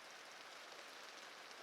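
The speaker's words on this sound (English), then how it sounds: "Only rain." Rain falls steadily against window glass, a soft, even patter and hiss with no voices or other sounds.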